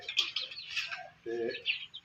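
Budgerigar parrots chirp and twitter in a cage in a shifting, faint chatter of high calls, with a brief lower warble partway through.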